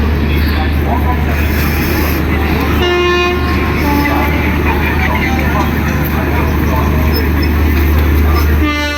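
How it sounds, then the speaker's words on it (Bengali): A train pulling into Visakhapatnam Junction, a loud continuous rumble of rail cars with a sustained horn tone and station noise, heard close by. "একটা কিন্তু ট্রেন অ্যারাইভ করছে বিশাখাপত্তনম জংশনে।"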